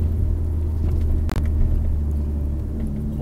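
Alfa Romeo 159 driving on a winding road, heard from inside the cabin as a steady low engine and road rumble with a brief dip around a gear change, no talking.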